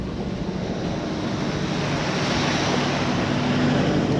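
Flowing creek water near Cedar Grove and Kinbombi Falls in Queensland makes a steady, broad rushing wash, continuous and fairly loud, with some wind noise against the microphone.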